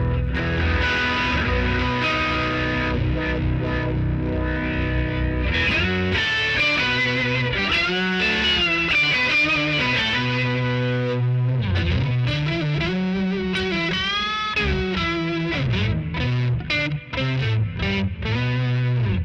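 An electric guitar runs through an EHX POG octave pedal with its low-pass filter engaged, playing sustained notes and sliding, bending phrases with thick, layered octave tones and a driven, chorus-like character throughout.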